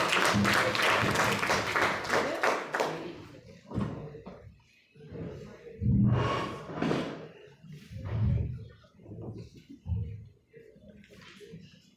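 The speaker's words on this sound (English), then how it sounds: "Help me welcome DTM very naya uncle with a thunderous round of applause." An audience at a meeting gives a burst of applause welcoming a speaker, loud clapping that fades after a few seconds, followed by people talking.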